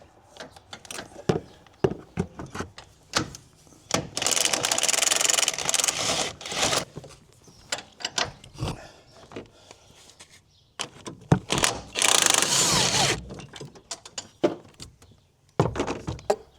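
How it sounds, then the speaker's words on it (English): Close rasping and ratcheting bursts come from a wrench working the three strut tower nuts loose on a 2017 Yukon during a leveling kit install. Two long grinding runs are separated by scattered clicks and handling knocks. "let's go up top and take the 3 strut tower nuts off"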